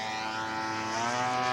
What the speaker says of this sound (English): Randy Hansen from Astor, Oregon has just taken off in the Cessna 188 Ag Wagon.